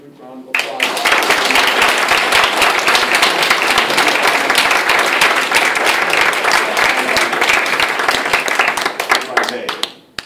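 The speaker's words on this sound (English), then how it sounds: "I think they deserve a huge round of applause." A crowd applauds at a public town forum on a budget override, clapping starting abruptly, holding loud and continuous for several seconds, then tapering off near the end.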